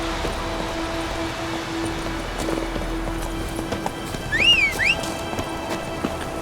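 Geralt's horse Roach trots in The Witcher 3, its hooves clip-clopping steadily under a constant outdoor ambience, with a brief whistling or whinny-like tone partway through.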